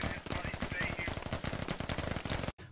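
Rapid automatic gunfire in the video game Squad lays down suppressing fire as a loud, close, unbroken burst that stops abruptly.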